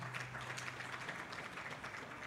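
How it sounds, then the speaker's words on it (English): Faint, distant applause from a surgical conference audience for the presenters, an even wash of many hands clapping under a low hum, with no voices. "I think the presenters deserve a big round of applause"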